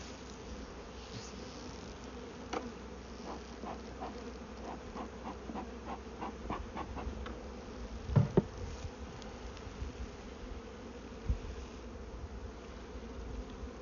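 A honeybee swarm hums steadily while being moved into a new hive, a dense continuous buzz with a few louder individual bees passing close and some faint knocks from handling.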